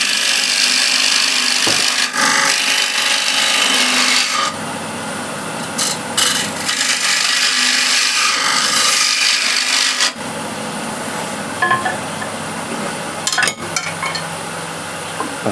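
A spindle gouge cuts excess timber from the rim of a piece spinning on a wood lathe, giving a loud, steady rasping scrape that shifts in texture with each pass, close up and without voices.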